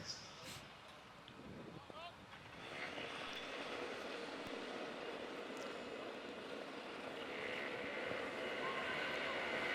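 Racing kart engines fire up together at the start of a Daniel Ricciardo Series race at Hooton Park, a faint buzz that swells into a louder, sustained drone after a few seconds, heard from a distance under trackside commentary.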